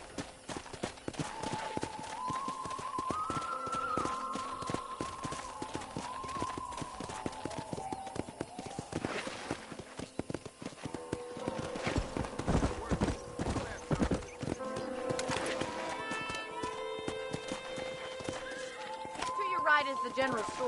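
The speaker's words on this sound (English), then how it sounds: "let's see if you can still ride a horse" Horse ridden across a ranch in Red Dead Redemption on PlayStation 4, with steady clip-clopping hooves and several whinnies and neighs over game music and ambience, while voices talk throughout.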